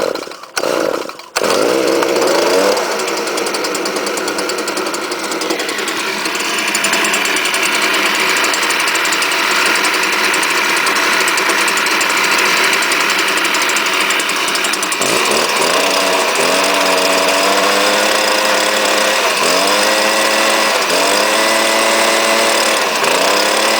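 A gas-powered string trimmer engine idles steadily and loudly close by with the throttle released, a continuous buzzing drone that wavers in pitch toward the end; the engine is suspected of being choked by a clogged spark arrestor screen.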